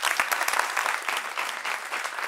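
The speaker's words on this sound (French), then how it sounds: "on peut l'applaudir" A live audience claps for a child joining the stage at a talk show taping, dense and even applause filling the space, moderately loud and continuous throughout.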